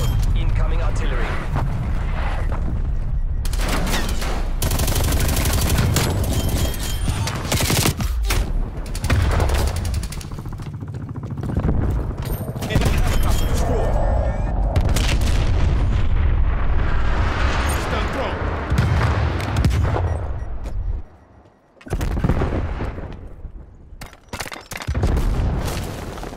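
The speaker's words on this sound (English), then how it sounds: "Enemy artillery above. Wait. Incoming artillery." Video game battle with booming artillery fire and explosions, dense and loud throughout, under radio-style voice callouts, with a brief lull near the end.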